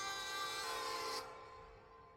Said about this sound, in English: Was that a train at the end there?